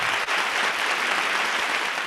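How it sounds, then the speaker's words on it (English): Applause from the audience of a virtual concert, heard as a loud, dense, hissing wash of clapping that stays steady throughout and has a rain-like texture. No voices are heard. "That's applause raining down."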